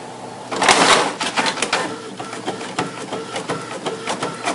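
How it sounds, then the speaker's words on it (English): Printer printing a test page, with a burst of loud mechanical whirring followed by rhythmic clicking and chattering feed noises, close and alone. "I'm printing a test page"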